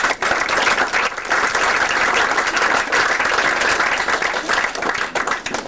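A sustained round of applause from an audience at a university moot competition, dense steady clapping close and loud for the whole stretch, with a murmur of voices mixed in.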